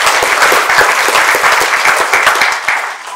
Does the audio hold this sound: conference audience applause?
yes